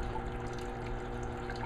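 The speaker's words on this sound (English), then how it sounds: "It drains by siphon right there into the biofilter, which will drain by siphon into this tank." Steady, continuous trickle of water draining by siphon into a biofilter tank in an aquaponics hoop house, with no talk over it.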